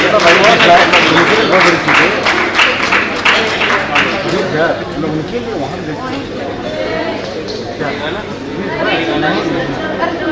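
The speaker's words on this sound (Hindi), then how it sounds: "जोरदार तालियों के साथ सर का स्वागत और अभिनंदन।" An audience at a stage event claps loudly and densely to welcome a CEO. The applause is strongest at the start, then thins into chatter and voices.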